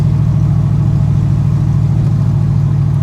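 Low, steady engine drone from a lowered 1977 Chevy C10 Squarebody with a 400 hp engine and a 6-inch lowering kit, cruising on a bumpy road, a continuous loud rumble with no talk.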